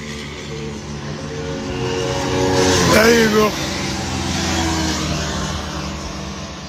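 Superbike engines, including a 900cc Ducati supermoto, rumble nearby, one revving up sharply and pulling away, with a steady engine drone continuing afterward.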